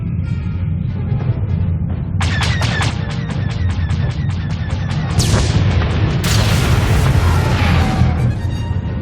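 Booming explosions and rapid crackling blasts in a Star Wars: The Old Republic cinematic as a target is destroyed, a dense loud barrage of bursts rising in intensity with rumbling low end throughout.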